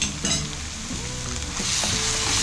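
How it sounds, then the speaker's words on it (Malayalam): Green chillies and ginger garlic paste sautéing in a pan, a steady close sizzle with stirring scrapes throughout, no talk. "എന്നിട്ട് നന്നായിട്ടൊന്ന് വഴറ്റിയെടുക്കണം അത്"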